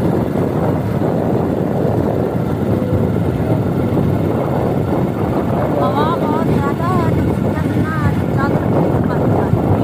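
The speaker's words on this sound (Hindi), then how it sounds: "मोटरसाइकिल के ऊपर है ना, हवा चल रही है।" Wind roars over a moving motorcycle on the road, a loud, dense rumble with steady buffeting that never lets up. A person talks over it throughout.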